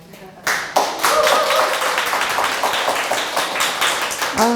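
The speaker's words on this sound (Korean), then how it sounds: "여러분들이 박수 쳐주시니까 조금 여유가 생기네요." Audience at a Korean church group study session clapping for a speaker: dense, continuous handclaps close by that start abruptly and hold steady, with a voice briefly heard near the end.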